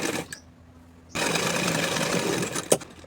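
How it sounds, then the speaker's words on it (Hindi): An electric sewing machine stitches a strip for a kurti collar. A short burst comes first, then a pause, then a steady rapid needle chatter for about two seconds, ending in a sharp click. "ऊपर से सिलाई लगा देना है"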